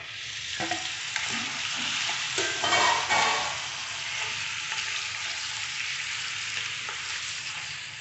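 Chicken pieces fry in oil with golden-browned onions for a chicken curry, a steady close sizzle with intermittent scraping and stirring sounds from the pan, no voices present.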